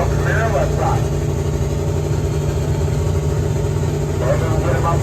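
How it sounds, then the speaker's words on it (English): A turbocharged 1999 Camaro drag car's engine drones steadily at a drag strip, a constant low rumble under continuous talk from a commentator. "the turbocharged 99 model Camaro left side"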